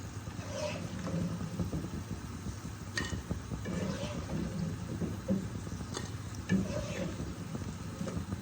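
Nimki, salted flour snacks, frying in hot oil in a home kitchen, a soft steady sizzle with occasional light clinks and stirring sounds, fairly quiet, with no talk.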